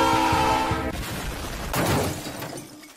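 A Choo-Choo train in a video game sounds a loud sustained horn for about a second, then a crashing, shattering burst and a fading rumble.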